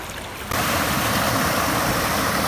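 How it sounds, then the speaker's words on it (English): Creek water flows steadily with a broad, continuous rushing wash from close by, with no voices. "See, the creek kind of changed its route."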